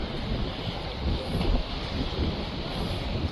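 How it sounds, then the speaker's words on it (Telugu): Strong sea wind buffets the microphone at an abandoned 300-year-old seaside fort at Harnai, India. The gusty rumble is loud and constant, with a surf-like roar underneath and no speech. "విండ్"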